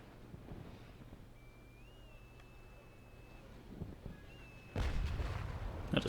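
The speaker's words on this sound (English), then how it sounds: "I'll just fire off a pot shot over there because they'll probably sink before we can get near them" A single ship's cannon shot booms out in the naval combat video game Naval Action, a sudden loud blast near the end following a quiet stretch of sea ambience and faint tones.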